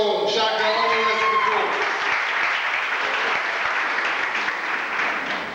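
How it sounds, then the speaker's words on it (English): Audience applause for performers at an African and Caribbean student event at New Jersey Institute of Technology, a full room clapping steadily and loudly after a voice introduces it, the clapping holding then easing slightly. "A round of applause for Calypso, Shaka, and all the rest"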